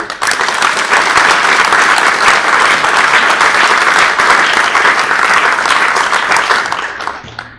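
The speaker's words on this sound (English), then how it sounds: "Please give a round of applause to His Excellency, Mr. Shaukat Aziz" Sustained, dense applause from a large audience at a forum launch event in London welcomes a former prime minister, loud and even, fading out near the end.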